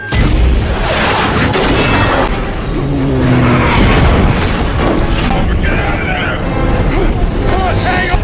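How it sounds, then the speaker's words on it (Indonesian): Missile explosion in an action film, with heavy booming blasts and dense, chaotic battle noise running continuously beneath a voice talking. "Dengan marah, Pique menembak Busco dengan rudal."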